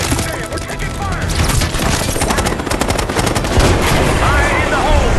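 Incoming gunfire in Call of Duty Black Ops 6 cracks in loud, rapid bursts, dense automatic shots overlapping with heavier booms and debris.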